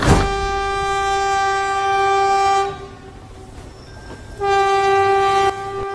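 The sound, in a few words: train arriving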